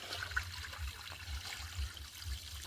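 Water used to soak paddy rice is strained through a net tied over a container, a soft, steady trickle and splash with low gurgling pulses, fairly quiet and without voices.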